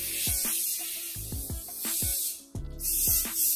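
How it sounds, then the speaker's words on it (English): Several short hissing bursts of hairspray from an aerosol can, quick puffs in an uneven rhythm, close up, ending with a longer spray. "I'm gonna give everyone one last spray into place"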